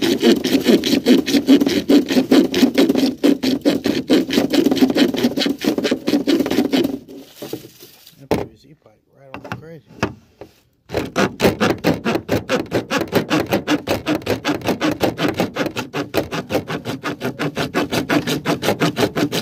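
A small handsaw cuts through PVC pipe in quick, steady back-and-forth strokes, pausing briefly midway before resuming the close, dense sawing rhythm.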